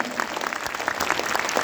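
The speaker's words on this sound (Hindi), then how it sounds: "सबके लिए एक जोरदार तालियां" A brief burst of audience clapping at a seminar-style gathering, a short, steady patter of many hands at moderate loudness with no voices over it.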